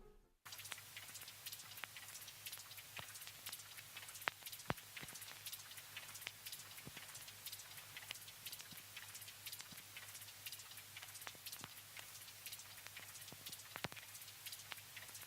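A rain field recording layered with tape hiss and vinyl crackle: dense, even pattering of drops with sharp crackles scattered throughout, a low steady hum beneath, continuous and fairly quiet for the whole stretch.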